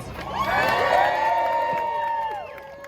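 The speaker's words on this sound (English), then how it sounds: "And our next speaker, please, a big round of applause for Sid." A crowd at a student march for Palestine in Cardiff, Wales cheers and whoops loudly for a speaker, voices rising together then slowly fading, with scattered shouts over the noise.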